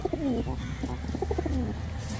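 Black Lahori pigeons, a male and a nesting female sitting on eggs, coo repeatedly in a steady, rolling rhythm, close and fairly loud with no talk over them.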